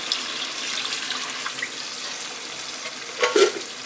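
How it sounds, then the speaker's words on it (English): Water pours from a container into a cooking pot for stewed beef in red sauce, a steady close splashing trickle that ends in a brief louder gush near the end, with no talking. "fill this up with water and then dump that in as well."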